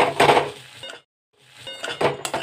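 A spatula scrapes and clanks against a pan while crispy masala corn is stirred: two clusters of rattling metallic scraping and clinking, separated by a short silent gap, close and fairly loud with no talk.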